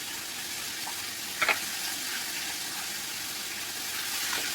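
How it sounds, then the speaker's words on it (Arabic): Breaded chicken fries in hot oil with a steady, moderate sizzle that holds throughout, broken by a brief double clink partway through. "هنبدا بقى ايه نحمر البانيه"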